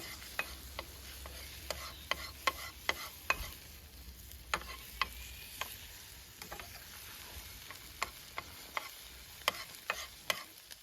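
Scrambled eggs cook in a pan over moderate heat, with a soft steady sizzle and scattered sharp taps and scrapes of a utensil stirring at irregular intervals, close and without talk.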